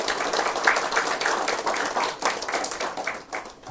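A church congregation gives a round of encouraging applause, a dense, moderately loud patter of many hands that holds steady and then thins toward the end.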